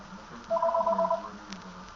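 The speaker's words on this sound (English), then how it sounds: "Did you hear the phone ring?" A phone rings with a short burst of bright electronic trilling pulses, close and clear, then fades to quiet room tone with no talking.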